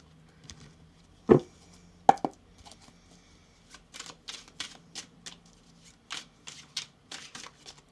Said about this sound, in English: cards are shuffling.